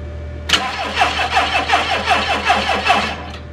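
A VW Jetta Mk2 with a carbureted engine and a freshly fitted battery cranks hard without catching. The starter gives a loud, rhythmic churn of about a dozen even pulses after a sharp click, then cuts out.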